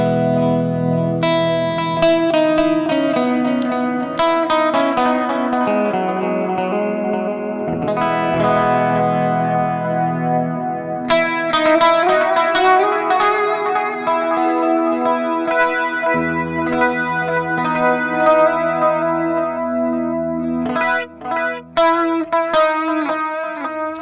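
Electric guitar played through the reverb of an Atlantic pedal, with the other effects switched off. Sustained, shimmering chords and single notes ring out loud and continuous, with washy tails trailing each phrase and no voices.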